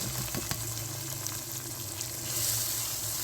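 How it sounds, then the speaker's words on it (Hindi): Onions sizzle and fry in a pan with ginger-garlic paste, a steady close crackling hiss with occasional stirring clinks and no voices. "प्याज को भी अच्छी तरह से भून लेंगे।"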